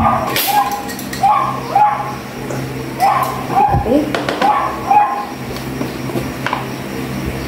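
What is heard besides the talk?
dog barking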